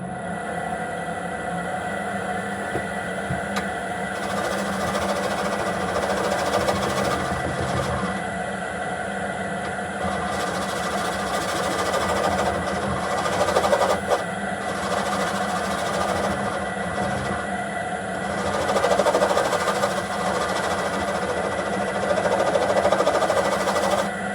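A wood lathe spins an elm bowl blank while a spindle gouge cuts it, giving a continuous mechanical whir with a steady hum and scraping that rises and falls as the tool moves. It sounds close and moderately loud, with no talking.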